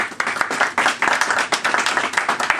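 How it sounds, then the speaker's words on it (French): An audience at a political meeting in Atlanta claps for a speaker, producing brisk, uneven hand claps close to the microphone that continue steadily for a few seconds. "Si vous voulez bien applaudir pour lui, s'il vous plaît."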